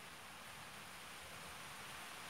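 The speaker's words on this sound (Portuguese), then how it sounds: "Olha a chuva" Rain falls as a steady, even hiss of broadband patter, constant and moderately faint with no voices over it.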